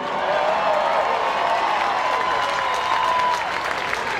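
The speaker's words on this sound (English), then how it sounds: "Let's hear for Julie Doyle right quick." A crowd applauds steadily with scattered cheers and whistles, loud and sustained for several seconds before easing slightly at the end.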